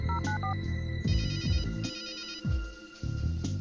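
A telephone rings out in the PC adventure game Runaway: A Road Adventure, electronic ring tones repeating over a steady game music bed, sounding in several evenly spaced bursts.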